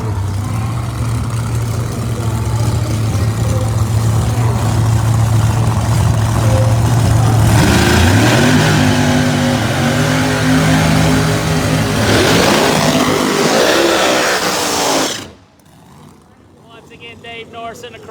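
Screw-blown Chevrolet Corvette pro mod drag cars rev loudly and continuously at a drag strip, engine pitch climbing and surging before cutting off sharply near the end, with a commentator's voice partly heard over the roar.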